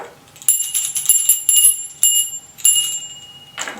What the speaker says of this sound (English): our virtual Red Kettle ringing of the bells